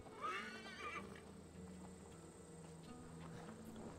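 A horse in the game Assassin's Creed Valhalla whinnies once near the start, a short wavering neigh, followed by faint steady hoof clops and low ambient game sound throughout.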